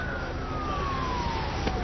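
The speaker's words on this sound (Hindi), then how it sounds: "सायरन की आवाज का मतलब होता था मेरे ऑफिसर्स भाई मेरी मदद के लिए आ रहे हैं।" A police siren wails in a film scene, its tone gliding steadily downward at a moderate distance against a busy background, with no talking.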